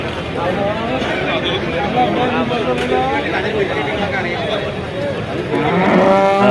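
Buffalo at the Vaniyamkulam cattle market give loud, drawn-out moos and lowing close by, over a busy crowd of voices chattering and talking throughout.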